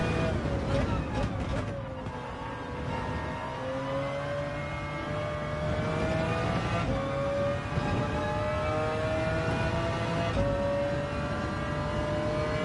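A race car engine in Gran Turismo 7 holds a sustained, rising drone as it accelerates mid-race on the third lap, steady and fairly loud with a faint shift in pitch partway through.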